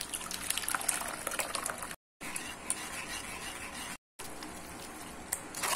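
Tomato chilli sauce with ginger is pressed and stirred through a sieve set over a large pot, giving continuous wet scraping and sloshing with small metallic clinks, broken by two brief silent gaps.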